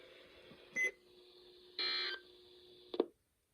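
NOAA weather radio test broadcast ending with EAS end-of-message tones: three short electronic data bursts, each under half a second to about a third of a second long, sounding loud and alone with silence afterward.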